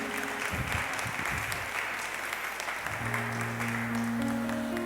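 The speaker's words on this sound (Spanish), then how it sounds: "Le damos un aplauso a nuestro Rey Todopoderoso" A church congregation claps together, a thick steady wash of applause that holds throughout, with organ-like sustained tones entering partway and no speech.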